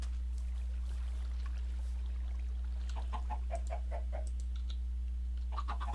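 Short clucks from chickens in the block-building game Minecraft, soft and intermittent over a steady low electrical hum, with a few quick calls clustering toward the end.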